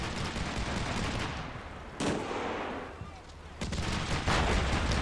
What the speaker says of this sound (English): Taking some pot shots over at the enemy infantry over there.